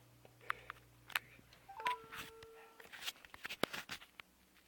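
Faint telephone dialing tones, a few short beeps and sustained tones mixed with soft clicks and ticks, quiet and sparse in an otherwise hushed room.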